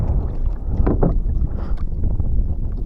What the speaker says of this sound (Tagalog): malakas pa rin ang amihan ngayon